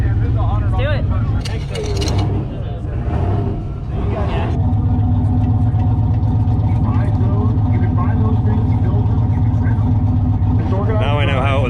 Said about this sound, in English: I guess now we get to find out if that generator can run the welder.